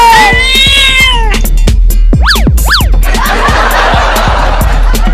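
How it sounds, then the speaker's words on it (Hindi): A cartoon cat meows loudly several times, with drawn-out, swooping cries and sharp, sweeping yowls over a busy, hissy background. "बिल्ली चल भाग जा यहाँ से"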